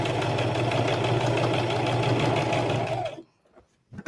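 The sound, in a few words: sewing machine stitching a Christmas stocking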